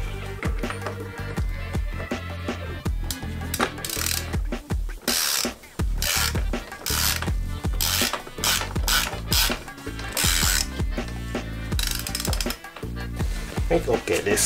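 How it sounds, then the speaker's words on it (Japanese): A torque wrench ratchets in bursts of rapid metallic clicks while tightening a bicycle bottom bracket on a Fuji Feather fixed-gear bike, with pauses and tool handling in between and some talk over it. "ここはトルクレンチで、管理してあげた方がいいと思います"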